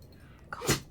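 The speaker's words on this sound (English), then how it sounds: "My dog is sneezing." A pet dog gives one quick, sharp sneeze up close, preceded by a faint sniff in an otherwise quiet room.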